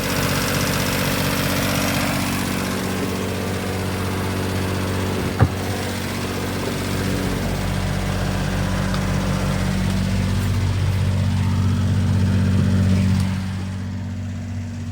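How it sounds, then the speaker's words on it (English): A generator runs aboard a Silverton 42C boat, heard from inside the cabin as a steady, loud, droning engine hum that holds even throughout, with one brief knock partway through. "Obviously you can hear the generator running"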